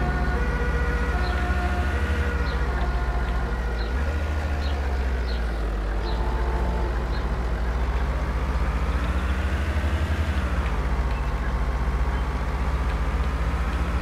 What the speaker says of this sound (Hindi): ये एम्बुलेंस ने मेरा ध्यान बता दिया